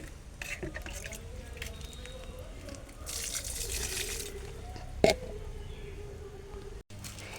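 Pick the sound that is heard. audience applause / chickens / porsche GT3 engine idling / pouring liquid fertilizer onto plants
pouring liquid fertilizer onto plants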